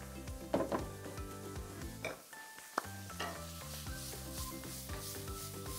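A small pinch of sugar is stirred in a sizzling frying pan, with a utensil scraping and clinking against the metal in a brisk rhythm under a steady quiet hiss.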